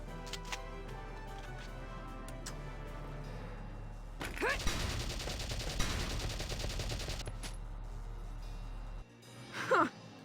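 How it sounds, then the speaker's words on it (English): A sustained burst of rapid gunfire erupts in a Valkyria Chronicles skirmish, lasting about three seconds over a steady low hum, followed by a brief voice near the end. "Open fire."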